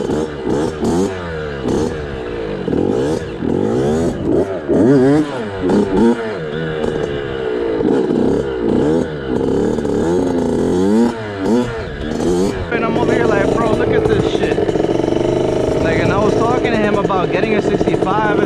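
A 2021 Kawasaki KX65 dirt bike engine buzzes and revs steadily up close, its pitch rising and falling through the run, with someone talking over it.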